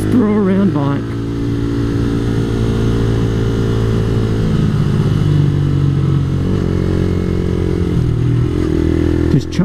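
A small, nimble motorcycle runs on a road while being ridden, its engine droning loud and close with pitch shifts as the rider works the throttle.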